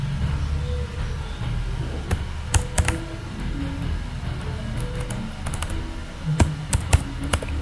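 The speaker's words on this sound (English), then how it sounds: "Here it will give the very big output, so let me type it." Scattered keystrokes on a computer keyboard during a Kubernetes networking session, irregular clusters of sharp clicks against a quiet room hum, close and moderately loud with no talking.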